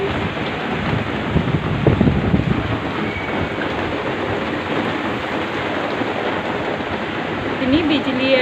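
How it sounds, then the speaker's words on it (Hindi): Heavy rain pours down steadily during a night-time thunderstorm with strong wind, a dense continuous roar with no talk heard. "देखिए जोरदार बारिश हो रही है, जोरदार।"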